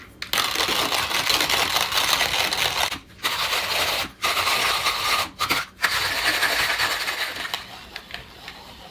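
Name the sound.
hand coffee grinder grinding 17 grams of coffee at coarsest setting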